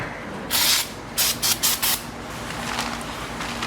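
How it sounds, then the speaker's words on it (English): Several sharp bursts of aerosol brake cleaner spray hiss out onto a car's brake rotor, one longer blast followed by four short quick squirts, then a fainter continuous spray over background hum. "We can just clean that off with some either brake clean or carburetor spray, doesn't matter which."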